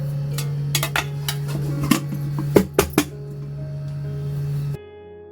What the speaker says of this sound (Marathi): ते आपण आता सर्विंग प्लेटमध्ये घेऊया.